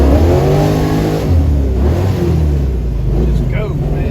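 A 1971 Dodge Challenger with a 440 V8 and four-speed manual revs hard up close, a loud, rough roar that climbs and falls over several seconds with a voice talking over it.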